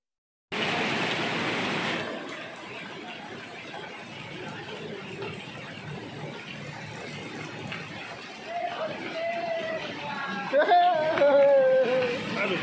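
Steady downpour of rain with hail drumming at Ghazipur wholesale market, a dense continuous hiss throughout with faint voices and a few high squeals rising near the end.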